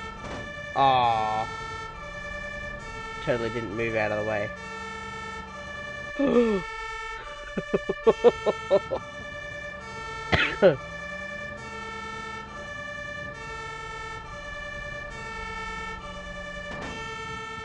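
An ambulance siren in Ambulance Simulator wails steadily and loudly throughout, with someone talking in short bursts over it.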